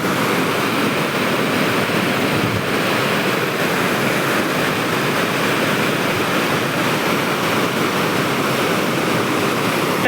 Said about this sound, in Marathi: तो लय स्पीड आहे पाण्याला